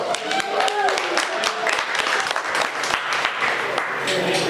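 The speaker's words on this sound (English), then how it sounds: "Let's give her a round of applause." A crowd at a county commissioner campaign kickoff gives a round of applause, dense continuous clapping from many people throughout, with a speaker's voice talking over it.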